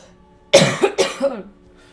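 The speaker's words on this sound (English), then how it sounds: "Coughing up a lung here, sorry." A person coughs twice in quick succession, close and loud, with a rough throaty rasp, then quiet.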